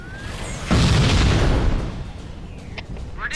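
A grenade blast in Halo: Combat Evolved lands as one sudden, loud, close boom that rolls on into a long, rumbling decay with scattered crackles and faint debris, and no voices.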